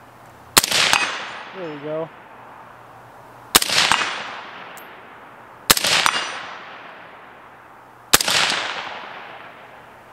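Four loud, sharp rifle shots from a Palmetto State Jakl fire at a 100-yard target outdoors, spaced a few seconds apart, each cracking and ringing out, with someone briefly speaking between the first two.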